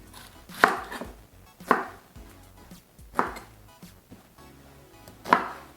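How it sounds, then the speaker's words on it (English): A knife rough-chops onion on a board for Jamaican green seasoning, landing four sharp, well-spaced strokes at an uneven rhythm, close and clear with no talking. "Just rough chop."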